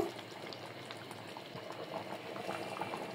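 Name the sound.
lentils and country chicken simmering in pot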